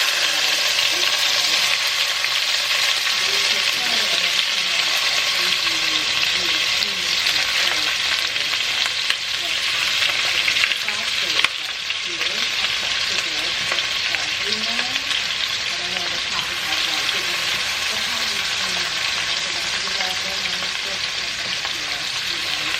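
Bell peppers, onions, scallion and tomatoes sautéing on a stovetop, giving a steady, loud, continuous sizzle that runs unbroken throughout, close up, with faint occasional movement beneath.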